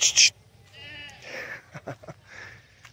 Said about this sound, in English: Gotta shoo the goat back